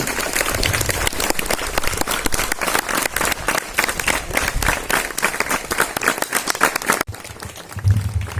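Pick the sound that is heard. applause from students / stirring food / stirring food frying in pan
applause from students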